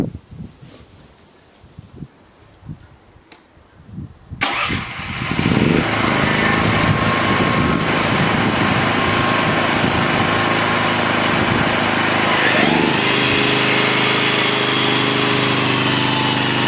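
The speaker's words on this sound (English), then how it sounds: "although it's a pretty quiet generator, it's a bit hard to hear me talking over the top of it" A fairly quiet portable generator starts up after some faint knocks, then runs continuously in a steady, loud, droning hum that carries through to the end.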